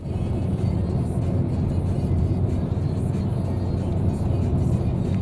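Steady road noise from a car on a long highway drive in Slovenia, a continuous low rumble and engine hum that stays loud and even throughout, with no pauses or talk.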